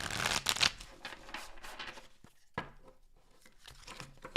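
A deck of tarot cards is shuffled by hand in short, crisp riffling bursts separated by brief pauses. The sound is close and fairly quiet, with no talking.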